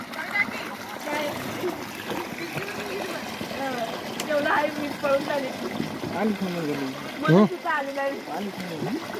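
Water pushed at high speed into a snake's hole during a snake rescue, a continuous rushing, splashing flow heard beneath several people talking loudly.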